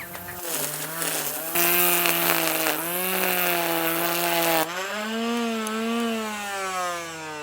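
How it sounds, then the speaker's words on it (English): A Bosch EasyGrassCut 26 electric grass strimmer's small motor whirs at a steady high pitch, its tone shifting slightly as it spins, with a buzzing, line-slapping edge, close by. "so if I give it one spin by holding the trigger and pressing the safety catch"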